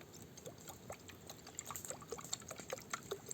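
Water is poured into a pot to be boiled on a portable gas burner, a faint, close trickling and splashing with small irregular drips over a quiet background.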